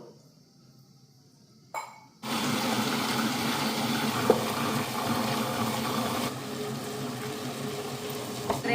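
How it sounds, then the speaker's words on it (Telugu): Water is poured into a wet grinder for soaked beans, a loud continuous close splashing rush that starts abruptly after a brief faint clink and runs steadily to the end. "ఫస్ట్ గ్రైండర్లో నీళ్లు వేసుకోవాలి"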